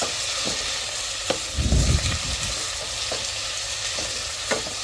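Mushrooms sizzle and fry in a pan with pork chops, with a steady hiss and a burst of louder scraping as they are stirred midway, then a few light utensil taps.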